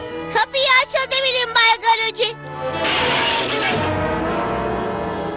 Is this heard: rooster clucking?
no